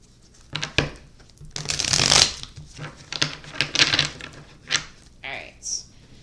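Tarot cards are shuffled up close, giving a series of papery rustling and riffling bursts of uneven length with brief pauses between them.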